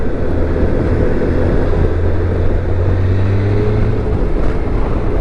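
Steady low drone of a 2024 BMW K1600GT six-cylinder motorcycle engine under light throttle while riding, a continuous smooth hum with wind rush and no pauses.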